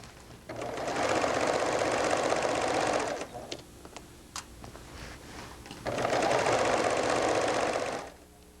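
A sewing machine runs a binding seam on a sweater in two steady, close bursts of whirring stitching separated by a brief pause with light handling clicks.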